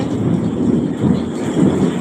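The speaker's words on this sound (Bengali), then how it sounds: "আপনারা শুনতেছেন কিভাবে বিদ্যুৎ চমকাইতেছে" Heavy rain falls outdoors during a shoot as deep, rolling thunder pulses in low waves two or three times, loud and continuous beneath the rain's wash.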